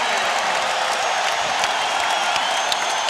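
Indiana arena crowd at Game 4 of the 2000 NBA Finals, Lakers versus Pacers, a dense, loud, continuous roar of cheering and applause filling the space.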